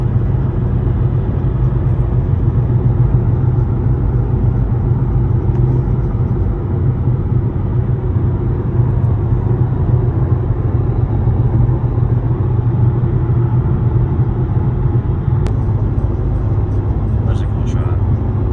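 Steady road rumble inside a BMW E46 M3 cruising on a quiet highway, a constant low drone of engine and tyre noise holding even throughout with no talking.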